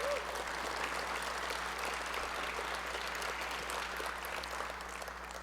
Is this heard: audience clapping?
yes